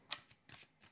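Oracle cards are shuffled by hand, two or three soft close riffling bursts with quiet pauses in between.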